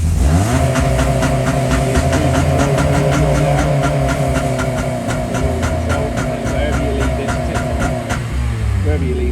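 Honda Civic FN2 Type R engine held at a steady high rev on launch control with the clutch in and first gear selected, a loud harsh buzzing drone that dips briefly near the end.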